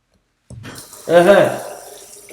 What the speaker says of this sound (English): So now, you take the water, you put it in your mouth